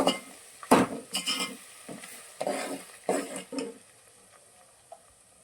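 Masala curry with capsicum being stirred in a hot pan: a spoon scrapes and clatters in irregular bursts over a soft sizzle, close and fairly loud, fading to quiet frying near the end.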